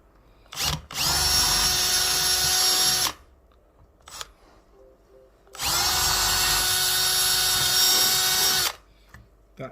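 A power drill twice whines at full speed for about three seconds each, widening a hole in an ACM dibond aluminium composite sheet, loud and close, with light handling noises in the gaps.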